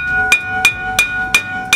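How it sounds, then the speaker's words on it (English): A hammer strikes a Nissan 370z rear brake rotor to knock it off the hub: five sharp, loud metallic clanks at an even rhythm, each leaving a ringing tone. "we basically just gotta hit it with a hammer and it should just come right off"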